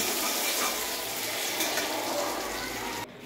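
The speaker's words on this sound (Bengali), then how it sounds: "পনির ভেজে ফেলছি আমি কিন্তু," Paneer sizzling in hot oil, a dense crackling hiss that runs steadily and close by before cutting off abruptly near the end.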